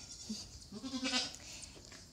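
A goat, a polled young buck, bleats twice close by in a short, wavering call, with a quieter rustle before and after.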